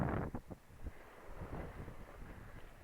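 A gentle sea breeze at Jumeirah Beach in Dubai rustles softly against the microphone, faint and steady with low buffeting puffs.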